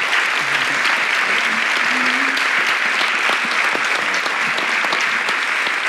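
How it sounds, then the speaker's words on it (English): An audience applauds speakers and panelists at a science conference, a dense, sustained clapping that stays loud and even throughout, with faint voices now and then underneath. "Please make a huge round of applause for our speakers and our panelists"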